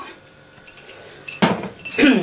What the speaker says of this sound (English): I'm going to put half a teaspoon